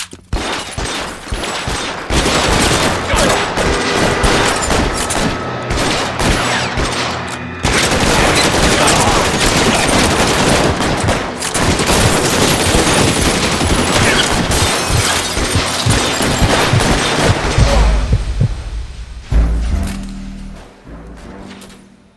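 A loud shootout in L.A. Noire, with dense, overlapping gunshots and rapid fire that continue almost without a break for around twenty seconds before fading at the end.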